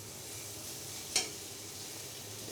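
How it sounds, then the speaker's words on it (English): Butter sizzling in a hot pan while cooking, a steady soft hiss with one brief sharp crackle partway through. "As you can see, the sizzling,"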